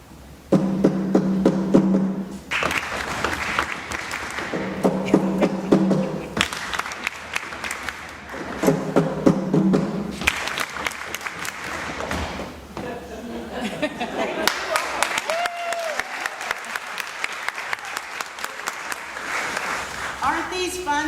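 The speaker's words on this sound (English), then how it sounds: "So if you want to do it with clapping your hands, you clap your hands. If you want to stomp your feet, you stomp your feet." An audience claps hands and stomps feet in rhythm with a drummer at a live show, a steady rhythmic beat of claps and thumps running throughout, with voices chanting or speaking over it in bursts.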